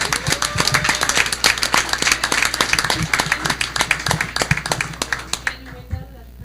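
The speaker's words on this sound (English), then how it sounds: "we want to give these girls a big round of applause." A roomful of people at a school board meeting gives a girls' sports team a round of applause, dense steady clapping close by that thins into scattered claps before fading out.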